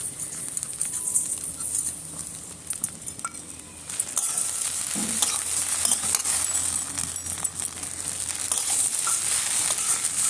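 Fried sago in a pan with sugar stirred through it until the sugar melts, a steady hiss and sizzle with soft scraping and occasional light clinks running the whole time, louder in the second half.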